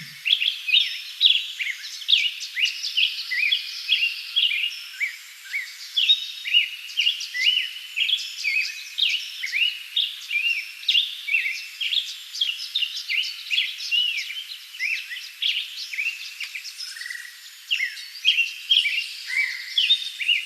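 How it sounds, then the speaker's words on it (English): A black-headed grosbeak sings outside a house in a long, unbroken run of clear, warbling phrases, fairly close, with no voices. "a 30-second clip of the black-headed grosbeak that was singing outside of our house"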